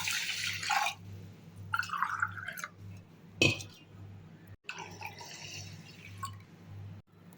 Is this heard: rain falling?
no